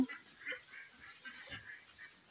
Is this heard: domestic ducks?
yes